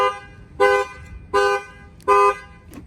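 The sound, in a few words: car alarm horn honking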